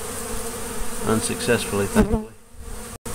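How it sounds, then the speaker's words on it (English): Many honeybees buzz densely close by around a tree hive whose entrance has been screened off, a steady humming swarm under a man's brief spoken words. "I'd probably find a couple thousand bees clustered on the front of this screen"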